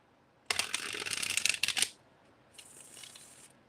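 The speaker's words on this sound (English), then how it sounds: "I like to shuffle at least 7 times." Tarot cards riffle together in a fast, papery shuffle, followed by a softer, shorter second shuffle after a brief pause.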